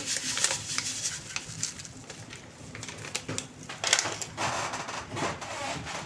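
Sweet dough ingredients are stirred in a bowl, giving close, uneven scraping and soft knocking strokes that repeat irregularly throughout.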